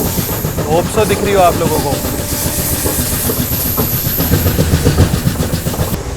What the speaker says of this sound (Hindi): देखो वो आ रही सचखंड एक्सप्रेस।